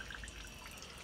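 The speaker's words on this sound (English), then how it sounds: "So when I run water" Water runs steadily through a LiqaGen multi-stage water filter system, a soft continuous trickle and drip carrying on for the whole second at a quiet level, with no voices over it.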